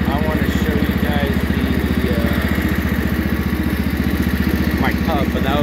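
A Wheel Horse 312-8 lawn tractor engine runs steadily at a fast, even putter while mowing grass, loud and close, with a voice talking briefly over it.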